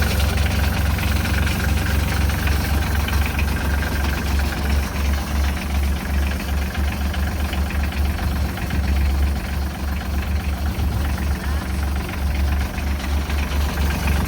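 Antique auction equipment engine idling steadily with a noisy pump, a loud continuous low rumble and knocking throb running throughout without pause.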